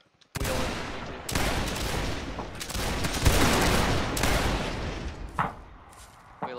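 Musket volleys crackle in a Napoleonic line-battle video game, dense loud bursts of overlapping shots rolling on for several seconds with short gaps between, then a few scattered later shots, heard without talk.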